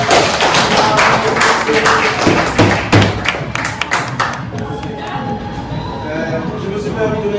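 Audience applause greets an Erasmus+ guest speaker at a school meeting, dense clapping strongest at first and thinning into scattered claps and a few voices by the end.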